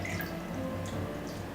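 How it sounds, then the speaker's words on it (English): Water draining and dripping out through the drainage holes at the fluke end of a silicone mermaid tail, a steady close patter of drips and trickles with no talking. "Some water came out the ends of my drainage holes, which is a good sign."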